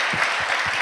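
Audience applause at a church worship gathering, a brief burst of clapping from a small crowd with a few distinct claps heard close.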